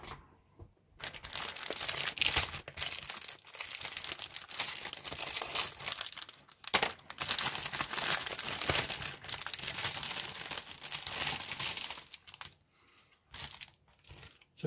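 A plastic bag holding parts of a 1/35 IBG Models 7TP Polish tank kit crinkles and rustles close up, handled almost continuously with a few short pauses.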